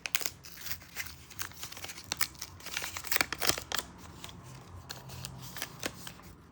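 Close, irregular crinkling of a plastic packet, sharp crackles and rustles coming in quick bursts with no voices.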